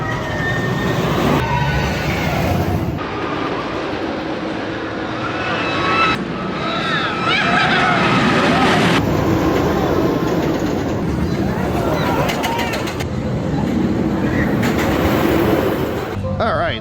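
The Steel Vengeance roller coaster at Cedar Point rumbles and roars loudly on its track, with the noise swelling and fading in waves. Voices talk over it.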